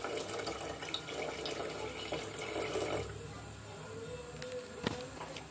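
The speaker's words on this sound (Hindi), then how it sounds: "इसमें ये पानी भी ऐड कर रहे हैं।" Tap water running and pouring into a pot of thinned lassi (yogurt buttermilk) for kadhi pakora, a steady splashing stream of moderate loudness that continues throughout, with a brief clatter near the end and no talk.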